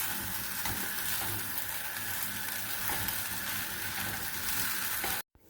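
Fried rice with sesame oil sizzling steadily in a pan, a dense continuous hiss with faint stirring scrapes, close and loud, cutting off abruptly at the end.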